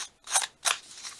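Scissors snip through paper while a junk journal tag is being cut, giving two sharp, close crisp cuts followed by a softer third snip, with no talking.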